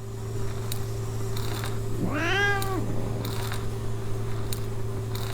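A cat meows in the indie adventure game Memoranda: a single rising-and-falling meow lasting about a second, clear over a steady low background hum, with faint clicks and ambient game sounds around it.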